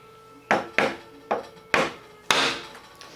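A chisel chopping a mortice into a piece of wood gives five sharp, sturdy knocks at uneven intervals, each thud ringing briefly before fading, close and clear with no talk.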